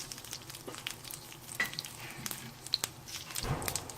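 Green chillies, coconut, curry leaves, cumin and rice sizzling and frying in a pan for a Chettinad fish gravy, with a steady close crackle and occasional stirring scrapes, no talk.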